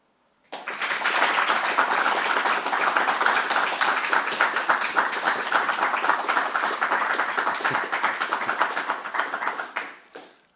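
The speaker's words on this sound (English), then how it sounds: "And that's the best applause I've had for quite a long time." A hall audience at a brass band awards ceremony breaks into applause that starts abruptly and keeps going as a loud, dense spread of clapping for about nine seconds before cutting off.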